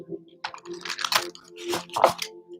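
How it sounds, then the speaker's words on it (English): Tarot card deck shuffled right in front of the microphone, giving loud, close bursts of riffling and papery flapping in uneven clusters, with no speech over them. "Try not to shuffle like right in front of the microphone because then it's like super loud for you guys."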